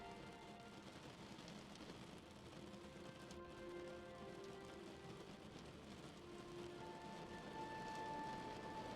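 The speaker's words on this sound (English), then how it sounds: "The sound of the rain is relaxing as it taps out a message to your mind" Rain tapping on surfaces, a faint, steady patter of drops with soft, irregular ticks over a low background hush, no voices.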